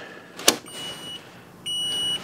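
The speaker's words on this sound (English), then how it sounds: "you can hear the, the beeping" A sharp click followed by steady electronic beeping tones from a dual GFCI arc fault breaker, one short and one longer, faint hum underneath, no voices.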